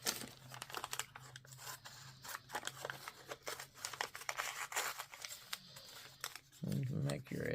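Paper from book scraps being cut with scissors: a close run of quick, crisp snips and rustles, with paper crinkling and handling sounds between cuts.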